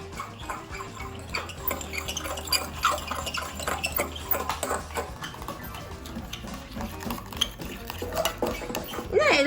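Slime being mixed and stirred in a bowl, a run of soft wet clicks and scraping taps, close and fairly quiet, continuing steadily for several seconds with a little background noise.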